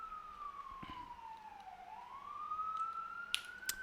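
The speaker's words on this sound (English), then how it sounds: "very loud siren" An emergency vehicle siren wails steadily, its pitch sliding slowly down and then back up again, carrying at moderate distance over a faint background for the whole stretch.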